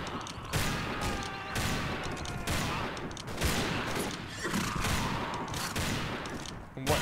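Black-powder rifle volleys crackle through a Mount & Blade Warband battle set in 1860s America, with repeated sharp shots and scattered crackling fire of moderate loudness over a constant battlefield din.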